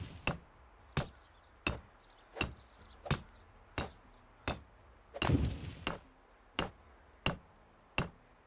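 Evenly spaced, dull wooden thunks of an iron hammer building a stone fence in the game Medieval Dynasty, about a dozen strikes at a steady pace, one blow slightly longer and rougher.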